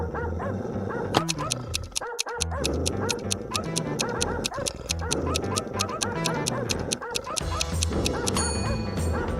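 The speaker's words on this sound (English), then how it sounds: "Suddenly, the dogs went out of control." Several dogs bark over a loud, busy music bed, the barking blending in as repeated sharp bursts rather than standing out clearly.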